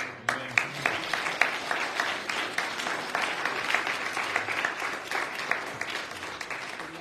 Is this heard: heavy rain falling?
no